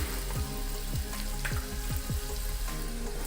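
Crushed garlic, turmeric and sambar masala frying in hot oil in a pan, a loud steady sizzle with a few stirring scrapes, close up and without voices.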